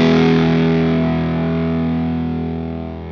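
Gritty, fuzzy distortion from a Red Panda Bitmap 2 pedal on a single sustained chord, loud and buzzing with dense harmonics, fading gradually over about three seconds.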